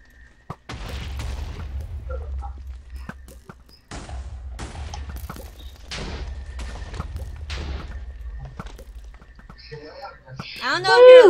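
Blocks of TNT explode one after another in Minecraft after being shot, giving a series of sharp booms and blasts at irregular intervals, with people talking over them.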